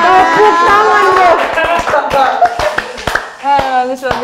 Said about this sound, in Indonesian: tepuk tangan bro.